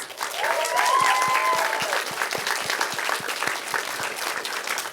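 An audience breaks into lively applause with quick, crisp claps, and a short whistle rings out near the start.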